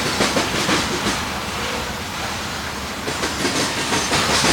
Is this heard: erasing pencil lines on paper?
no